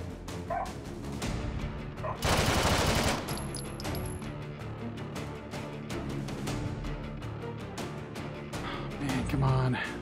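PPSh submachine gun fired in the VR game Hot Dogs, Horseshoes & Hand Grenades on a Take and Hold map, loud rapid bursts of automatic fire with a sustained heavy stretch, amid other game noise and voice.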